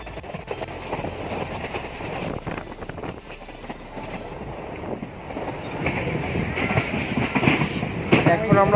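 A train from Bangaon to Dum Dum Junction rolls along the rails with a loud, steady rumble and rhythmic clatter, wind buffeting the microphone and no talking.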